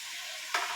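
Capsicum, ginger and green chili frying in oil for mutton masala, a steady hissing sizzle that swells briefly with a stir near the end.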